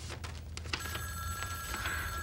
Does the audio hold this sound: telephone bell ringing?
yes